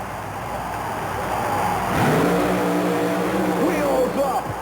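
A supercharged Chevy at a 1991 USHRA drag racing event launches with a loud engine roar that swells midway and rises in pitch. An announcer talks over the sound throughout.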